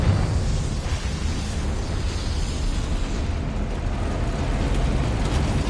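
A Confringo fire spell bursts in the video game Hogwarts Legacy, a steady, loud, rumbling blast with crackling roar that sustains for several seconds without pause.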